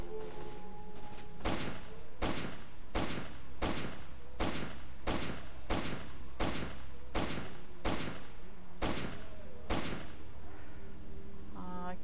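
Eleven evenly spaced heavy gunshots from the game Lost Alpha during an attack on scientists, each a sharp loud crack about once per second, with a faint voice under the start and end.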